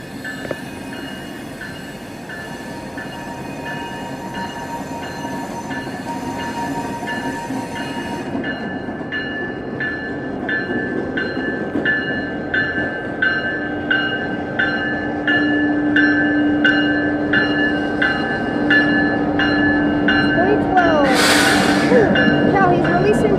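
A boxcar freight train bound for Winston yard in Plant City, Florida rolls past steadily, wheels clacking rhythmically and rising into sustained high metallic squeals toward the end, with occasional voices nearby.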